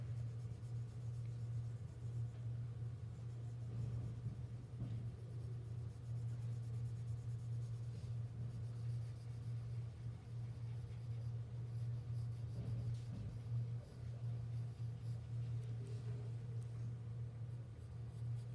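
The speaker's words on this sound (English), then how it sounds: "So don't be afraid to really use that pressure" Pencil shading with firm pressure on paper, drawing cast shadows on a cone and cylinder; a steady, close scratchy scrubbing continues throughout over a low constant hum, with no talk.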